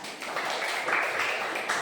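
Classmates in a school classroom clap their hands together, a steady, dense patter of applause that holds for about two seconds at moderate loudness with no talk over it.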